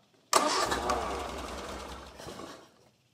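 A Westfield kit car engine started without choke catches abruptly and runs loud and close with a rough, uneven idle for a couple of seconds before dying away. No one speaks.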